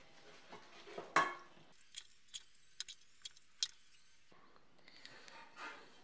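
Black chickpea chaat being dished out into a serving dish: a series of light, clinking metal-on-dish taps, one sharper clatter followed by evenly spaced soft knocks, close up and otherwise quiet.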